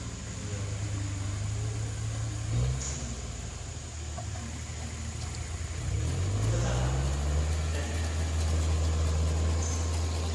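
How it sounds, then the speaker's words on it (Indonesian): Tractor engine working a hard field during plowing, a steady low drone that rises and falls as the engine revs up twice, continuous and fairly close throughout without speech. "Ini traktor yang kami pakai kalau tanahnya terlalu keras"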